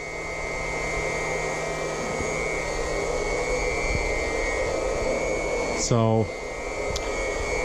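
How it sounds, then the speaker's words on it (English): A Wayne PC4 pump hums in a steady, moderately loud drone while filling a radiant heat system with glycol, continuous throughout, with a brief voice briefly heard over it. "That's a good pump. That's a Wayne PC4. It's not super loud."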